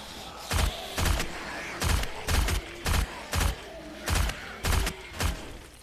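Gunfire in the survival game 7 Days to Die: about nine separate shots, single and evenly spaced, each a sharp loud crack with a short tail, standing out over a quiet background with no talk.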